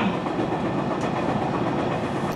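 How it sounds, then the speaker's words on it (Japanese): Diesel railcar running on the non-electrified Karatsu Line in northern Kyushu, a steady broadband rumble and hiss of the train in motion, loud and continuous throughout the short stretch, no voices. "また唐津線は非電化となっているため、この区間はディーゼル列車が走ります。"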